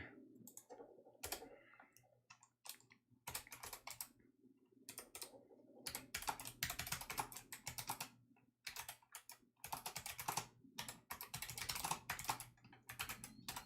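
Typing on a computer keyboard, steady bursts of close, crisp key clicks with short pauses between runs, continuing throughout alone with no talk.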